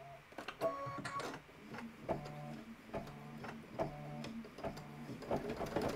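A sewing machine stitches a Christmas sew-along project, giving a steady mechanical whir with a repeating rhythmic pattern of tonal pulses, close and moderately loud, with no talking.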